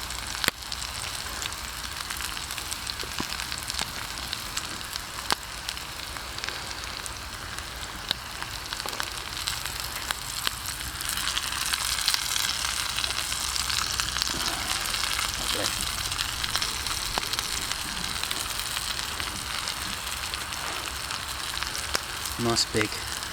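Mushrooms fry and cook down over coals beside a steak, producing a dense, continuous crackling sizzle that stays loud and even throughout, like steady rain, with a few faint pops.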